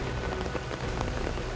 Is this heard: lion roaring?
no